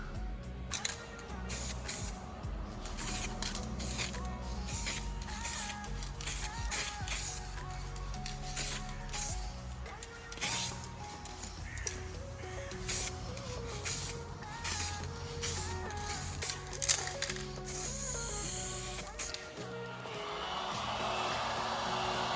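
Matte black spray paint hisses from an aerosol can onto an Audi R8 bumper in short repeated bursts, a quiet, close series of sprays with pauses between them and a longer blowing hiss at the end.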